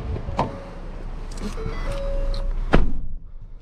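A 2019 Ford Flex SEL AWD power tailgate closing: a steady electric motor whine for a few seconds, then a solid close thud near the end, recorded up close with no talk.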